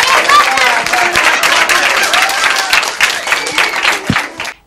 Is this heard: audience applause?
yes